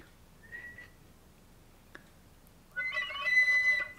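A flute plays whistle tones: a faint, thin high note sounds briefly, then after a quiet pause a louder, sustained airy tone with shimmering overtones closes the passage.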